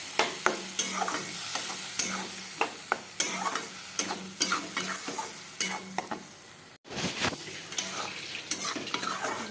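Potatoes and spices being stirred and fried in a pan for Bengali muri ghonto, with steady sizzling and repeated scraping strokes of a spatula throughout, briefly dropping out near the end before resuming.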